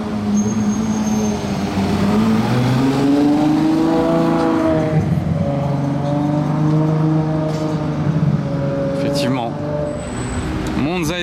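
A Ferrari Monza SP2 revs and drives past, its engine pitch sweeping up and down through gear changes, loud and close, with a voice talking over it and other traffic noise around.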